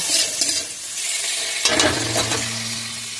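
Loud, steady sizzling of prawns lightly frying in a hot pan, with occasional stirring scrapes and crackles.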